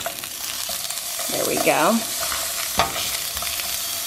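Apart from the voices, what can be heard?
patty sizzling while frying in a pan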